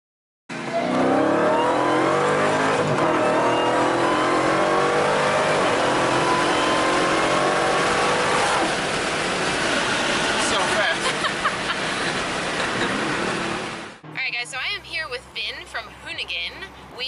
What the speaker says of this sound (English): we are currently driving the Redeye Hellcat first